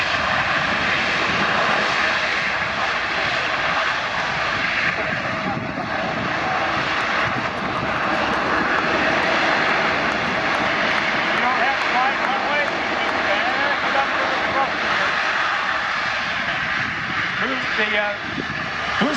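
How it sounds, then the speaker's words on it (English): A USAF C-17 Globemaster III landing as the nacelle panels open and the thrust reversers engage, giving a loud, sustained jet engine roar that swells and holds throughout while a commentator talks over it. "the nacelles will open up and they will turn the thrust reversers on"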